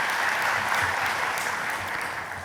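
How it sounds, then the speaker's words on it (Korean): Steady, dense applause from a church congregation encouraging the Immanuel choir during a Sunday service, an even wash of many hands clapping throughout with no voices over it. "우리 다시 한번 임마누엘 성가대를 향해서 박수로 격려해 주시면 감사하겠습니다"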